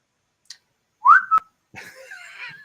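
Someone whistles a short rising note followed by a brief held tone, clear and close, then faint breathy rustling after a pause.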